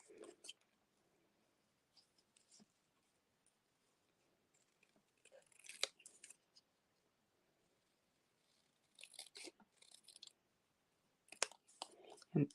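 Scissors snipping a paper card piece by hand, rendered as quiet clustered crisp cuts and rustles with pauses between bursts, close and faint.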